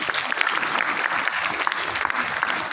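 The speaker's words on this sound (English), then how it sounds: "So I really must clap for all of you, for all my dear teachers and students." Teachers and students at a school Christmas celebration clap together, a steady close wash of applause without pause for a few seconds.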